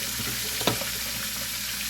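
Fish sizzling as it fries in a pan for a Southern-style breakfast, a steady broadband hiss with one brief clatter partway through, close and continuous with no talking.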